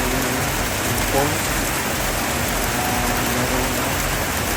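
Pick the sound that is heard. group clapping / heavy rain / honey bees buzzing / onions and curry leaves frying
heavy rain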